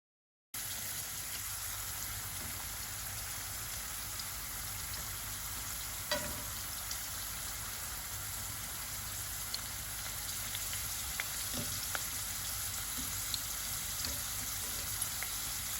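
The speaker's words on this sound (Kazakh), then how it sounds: "жаңағы турап алған сәбізімізді, картошкамызды бөлек-бөлек осылай қуырып алатын боламыз." Cut carrots and potatoes fry in hot oil in a pan, a steady dense crackling sizzle running throughout with a few faint utensil clicks, close and without talking.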